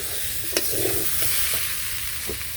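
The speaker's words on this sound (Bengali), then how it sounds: "যে তেল দিয়ে হলুদ মরিচের ফাঁকি লবণ দিয়ে সবজিগুলো কষিয়ে নিলাম।" Turnip, broad beans, brinjal, potato and radish are stir-fried in oil with turmeric, chilli and salt, giving a continuous loud sizzle with a few sharp spatula knocks against the pan, close by and without talk.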